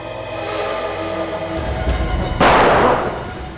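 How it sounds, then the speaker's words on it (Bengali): Sharp gunshot-like bangs outdoors near a school, with a strong burst of noise partway through over a rumbling background, loud and close. "গুলি কোথায় চলছে?"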